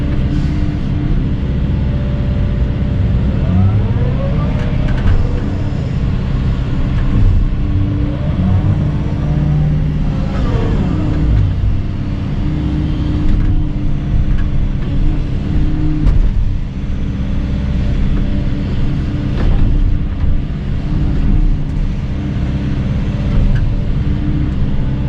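An excavator digging a basement on a cleared lot for a new house: a loud, steady diesel rumble runs throughout, with faint rising and falling hydraulic whines layered on top.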